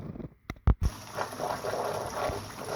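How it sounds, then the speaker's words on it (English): Water pouring from a recirculating sluice box header: a few loud knocks and clunks, then a steady, even gush of flowing water close by. "it's keeping that water flow nice and even out of the header here"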